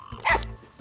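A cartoon dachshund gives a single short, close bark, bright and yappy, with no talking over it.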